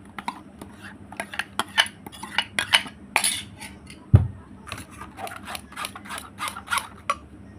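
Jackfruit pulp strained through a sieve into a bowl: close, irregular scraping and tapping of a utensil against the metal strainer, with one sharper clank midway. Quiet stretches fall between the strokes and no one speaks.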